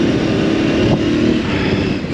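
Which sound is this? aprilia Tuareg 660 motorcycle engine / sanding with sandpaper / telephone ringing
aprilia Tuareg 660 motorcycle engine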